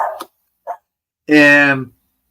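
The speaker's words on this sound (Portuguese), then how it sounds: "Tem minha cachorrinha do lado de fora aqui latindo." A small dog outdoors gives a couple of short, sharp yaps, then a longer, drawn-out bark, each loud and separated by silence.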